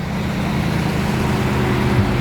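Steady low rumble of a car idling and creeping in stuck traffic, a constant engine drone with road noise close by, no one talking.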